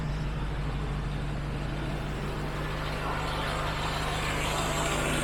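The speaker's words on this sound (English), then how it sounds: "This thing does have a lovely exhaust sound." A Morris 1300 engine runs steadily with a low, even exhaust rumble, continuous and fairly close throughout.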